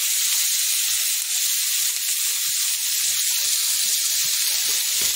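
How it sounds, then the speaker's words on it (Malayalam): Chopped onion and crushed ginger sauté in ghee for a vegetable biryani, giving a loud, steady, close sizzle that continues without a break and without any talking. "അരിഞ്ഞ് വെച്ച് സവാള ചേർത്ത് കൊടുക്കുകയാണ്."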